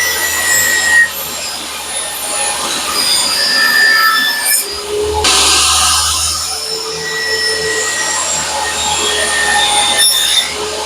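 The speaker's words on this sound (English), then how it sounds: "Now I'm cutting miters on all sides of the panel." Miter cuts being sawn along the sides of a wooden box panel, a continuous loud scraping and squealing cut that runs steadily with a brief louder burst partway through.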